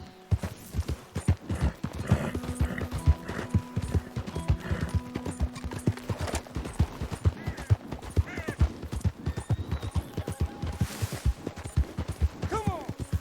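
A horse gallops in Red Dead Redemption 2, with rapid rhythmic hoofbeats thudding throughout, harness jingles and a few tonal game sounds layered on top.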